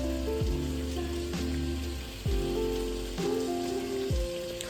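Bacon frying in a pan gives a constant hiss and crackle, broken by several distinct pops and spits at irregular intervals, close and fairly loud.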